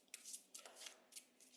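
Quick riffling bursts of cards being shuffled, three or four short flurries in a row, close and fairly quiet.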